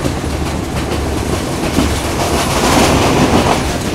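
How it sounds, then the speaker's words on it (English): A train in Myanmar runs fast, heard from inside a carriage as a loud, steady roar of wheels and rushing wind with faint clickety-clack, continuous throughout and no talk. "Train's hauling ass now, it's probably a lot of wind."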